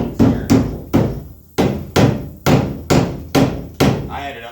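A hammer beats on the metal pinch welds of a Ram 2500 pickup truck during rust repair, with eight loud, close, evenly spaced blows about half a second apart and a short pause partway through.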